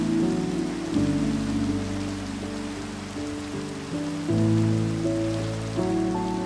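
Rain falling in the Minecraft video game: a steady, soft hiss of rain under sustained game music notes, with no talking.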